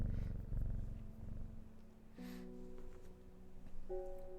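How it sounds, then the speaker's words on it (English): A cat in the game Strange Horticulture purrs steadily while being petted, a soft low rumble beneath gentle sustained musical tones that enter partway through. "Pet the kitty"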